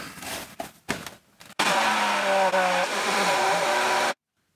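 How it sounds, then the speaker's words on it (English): An immersion blender whirs loudly in a container of pottery glaze under a paper towel, starting abruptly and holding a steady motor hum for about two and a half seconds before cutting off, after some brief handling noises. "so I can rinse off the immersion blender head between different colors"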